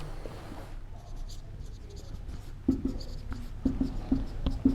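Chalk or pen writing by hand during a geography lesson gives sparse scratching at first, then a run of quick taps and strokes in the second half, close and fairly faint.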